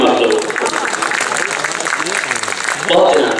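An audience at an All India Mushaira poetry gathering at a college claps in a dense, continuous patter while a voice carries on over it.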